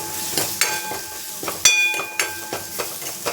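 Ground pepper paste frying on low heat in a pan after mustard seeds, for a coconut milk rasam: a steady soft sizzle broken by several sharp spoon scrapes and stirs, close up with no talking.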